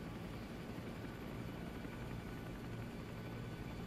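Huey helicopter in the video game ArmA 3 flying in formation, a steady, dense rotor and engine drone held at an even level throughout, with no talk.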